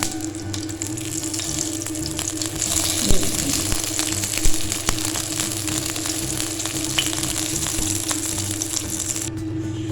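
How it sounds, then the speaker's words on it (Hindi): Shami kebab patties frying in ghee in a pan: steady, loud sizzle and crackle with small pops, continuous for the whole stretch without pause. "अब इसमें हम कर लेंगे अपनी शामी को फ्राई"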